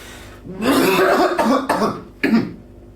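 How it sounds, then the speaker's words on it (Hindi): A few loud, forceful coughs in quick succession, close by, with a short pause before a final harsh cough. "जोर से खांसी करता हूँ"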